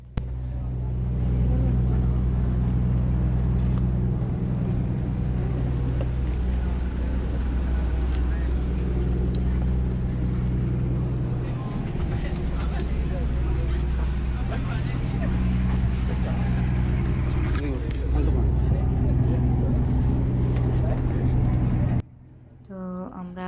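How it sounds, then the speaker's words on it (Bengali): A speedboat carrying passengers across the water in the Maldives gives a steady, low, rumbling engine drone throughout, with voices talking over it, before it suddenly cuts off near the end. "তো আমরা স্পিড বোটে এখন বসে গিয়েছি"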